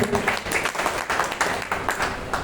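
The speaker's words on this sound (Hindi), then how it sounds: "सबसे पहले इस सिस्टम बनाने वाले श्री एम.के. गुप्ता के लिए एक बार जोरदार ताली" Audience applause for M.K. Gupta at a public stage gathering, steady mid-level clapping with rhythmic swells throughout, a faint voice mixed in.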